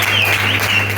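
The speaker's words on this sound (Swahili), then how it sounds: "Hebu mpigie Bwana makofi kwa ajili ya mahali hapa." A church congregation applauds, a dense steady wash of clapping filling the whole second at close, loud level with no pauses.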